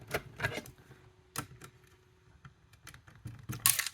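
A small screw drops into the hopper of a Fuma FA-590A screw counter, a few sharp metallic clicks and rattles at close range amid light handling taps, with quiet gaps between the sounds.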